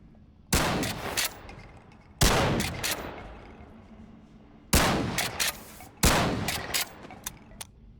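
Pump-action Mossberg 590A1 shotgun firing in the VR game BONELAB, four loud booming blasts spaced a couple of seconds apart, each followed by quick mechanical clacks of the pump and a decaying echo.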